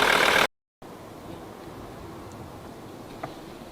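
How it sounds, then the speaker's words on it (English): A Mercedes-Benz W123 engine runs steadily during a gas oil flush, a low, even idle drone following a brief cut at the start, with a faint tick near the end. "we've got our engine running now with the gas oil and the oil"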